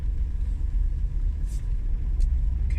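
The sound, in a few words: car passing on road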